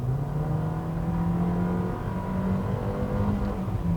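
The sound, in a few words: Nissan car engine revving buzzily in sport mode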